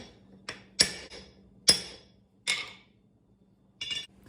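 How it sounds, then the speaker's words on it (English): A metal rod tapping down the lid of a canister packed with horseshoe pieces for a Damascus billet, giving about five sharp, close metallic clinks at irregular intervals with quiet gaps between them. "So I just take a rod and just kind of tap it down."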